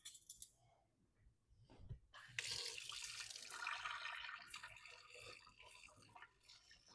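Hot water is poured into a peanut noodle sauce with peanut butter and honey: a short splash, then a steady close trickle of liquid lasting several seconds.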